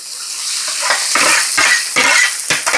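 Onions drop into hot oil and fry in a pan with a loud, hissing sizzle broken by a few stirring scrapes, close and alone.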